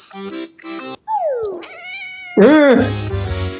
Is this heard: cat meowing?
yes